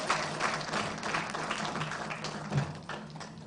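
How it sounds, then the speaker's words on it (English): Audience applause at an opposition alternative national budget event, a thin, scattered round of clapping heard from a distance in a large hall, steady for a few seconds and then tapering off. "I think you can give a better round of applause than that."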